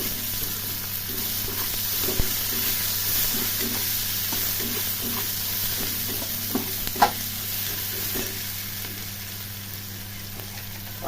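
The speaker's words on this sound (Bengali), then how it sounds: "একটু সাদা জিরে, পেঁয়াজ, রসুন, কাঁচা লঙ্কা একসাথে দিয়ে দিলাম, কষি" Cumin seeds, onion, garlic and green chili frying together in a pan, a steady sizzle under occasional light scrapes of a stirring spoon, close and without speech.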